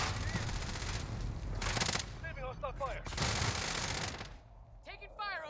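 Loud bursts of automatic gunfire from an MP5 and other weapons in a Warzone match, with rapid rattling volleys that start and stop and fill most of the stretch. Players talk over the shooting.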